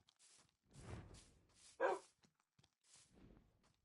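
Dogs bark in a horror video game, with a few barks and yips spread across a quiet scene and a louder, sharper bark near the middle; soft footsteps and low rustling fill the gaps.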